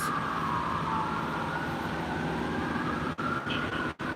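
An emergency vehicle siren, fire truck or ambulance, wails steadily through a city street near LAPD headquarters in Los Angeles at night, heard at a moderate distance over traffic noise, with a couple of brief dropouts near the end.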